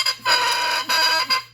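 Bassoon reed blown on its own, giving loud, wild crowing squawks in three bursts, bright and buzzy with a steady drone underneath.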